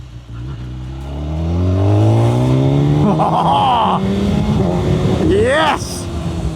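A Honda superbike engine accelerates hard, its rising harmonic whine climbing through the revs with a quick shift, close and loud, while a rider speaks over it.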